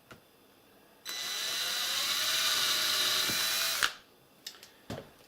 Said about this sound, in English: So I've got 4 holes drilled in now